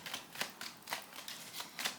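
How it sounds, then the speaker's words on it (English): Tarot cards being shuffled by hand, a quick series of soft, crisp riffling bursts in an uneven rhythm, close and quiet, with no talking. "Whoops, let me go ahead and do a quick shuffle."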